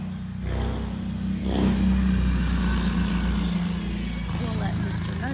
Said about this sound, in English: We'll let Mr. Motorcycle go by us.